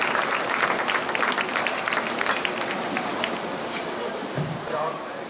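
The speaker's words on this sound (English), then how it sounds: "Let's give them one more round of applause." Audience applause fills the arena at the Bailey County Junior Livestock Show, a steady, dense clapping from a crowd that holds fairly even before easing slightly near the end.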